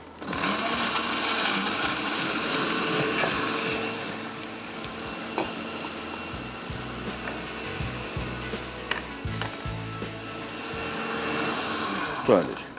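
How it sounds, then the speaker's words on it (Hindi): A blender whirs loudly and steadily blending chutney, then runs in shorter bursts with some pauses before a final spin. "ब्लेंड किया।"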